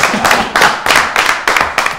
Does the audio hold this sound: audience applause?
yes